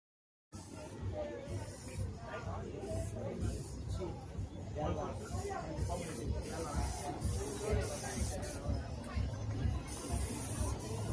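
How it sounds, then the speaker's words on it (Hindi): A spray paint can hisses in repeated bursts while an artist paints at an outdoor cultural fair, the spray fairly faint under a busy crowd babble. "ये स्प्रे कर रहे थे, मुझे बड़ी आवाज़ आई फुस-फुस"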